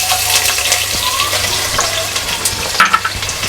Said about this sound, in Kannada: ಸ್ವಲ್ಪ ಕಲರ್ ಚೇಂಜ್ ಆಗೋವರೆಗೂ ಫ್ರೈ ಮಾಡ್ಕೊತೀನಿ